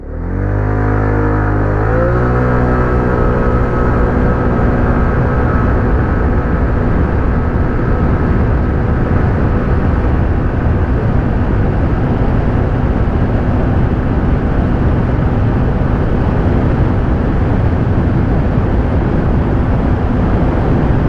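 An Aveta Viper 180 motorcycle accelerates hard during a top speed run, its engine climbing quickly through the gears, then holding a loud, sustained high-revving drone with steady wind rush.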